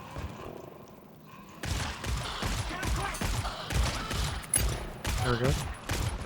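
Players firing their guns in the GTFO video game: after a quiet opening, rapid bursts of gunfire break out and continue in loud clustered volleys with thuds, while people talk over the shooting.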